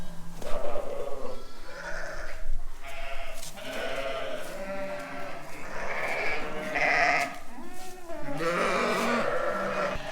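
Ewes bleating continuously inside a barn during night lambing, several overlapping calls near and far, loud and steady with no talk.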